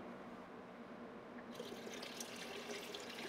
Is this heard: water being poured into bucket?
yes